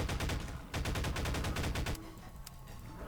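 Rapid automatic gunfire bursts in Garry's Mod, loud and close, two dense rattling volleys with a short gap between, then fading to quieter ambience.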